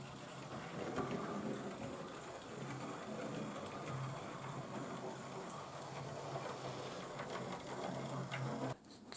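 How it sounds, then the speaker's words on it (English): A small Hatton's SECR P class model locomotive runs along a test track with a steady, faint mechanical whirr and rattle that carries on for several seconds before cutting off abruptly near the end. "A small base wheel locomotive."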